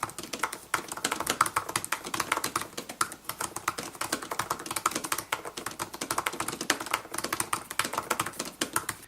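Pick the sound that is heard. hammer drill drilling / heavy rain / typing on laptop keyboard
typing on laptop keyboard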